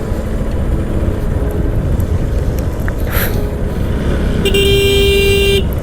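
A motorcycle horn sounds on a hill road bend, two short toots and then a longer bright blast near the end, over the steady drone of the moving bike.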